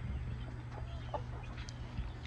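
A broody hen sitting on about 18 eggs in a homestead nesting area clucks softly, with low, scattered calls faint over steady background hum.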